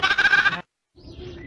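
A goat bleats once, loud and close, in a single wavering cry lasting just over half a second. A short silence follows, then faint, quieter background noise.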